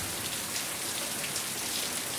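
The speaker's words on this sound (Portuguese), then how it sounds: "essa chuva veio no momento certo" Rain pours steadily in the dry northeastern Brazilian backcountry, a dense, even hiss of drops striking surfaces that carries on unbroken and fairly close.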